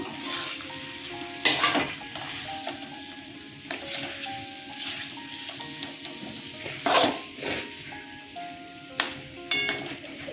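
Gathi kochu taro pieces fry in a pan with sugar for a fish curry, a steady close sizzle under repeated spoon scrapes and clinks against the pan.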